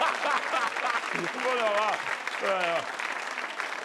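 Steady audience applause at a German comedy show, continuous dense clapping throughout, with a voice speaking over it.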